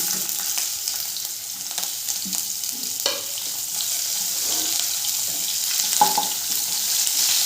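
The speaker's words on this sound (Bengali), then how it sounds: "পেঁয়াজটা দিয়ে একটু ভাজা ভাজা করে নেব।" Chopped onion frying in mustard oil with a pinch of kalo jeera, in oil left from frying fish for a Bengali bata fish curry, gives a steady, close hiss and sizzle with faint scrapes, and no one speaks.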